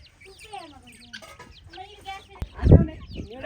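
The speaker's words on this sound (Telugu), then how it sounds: "ఇది మా కోళ్ళ సంతతి." Chickens cluck and chirp nearby in a mixed flock on a farm, with a sharp knock and a burst of low rumbling near the end.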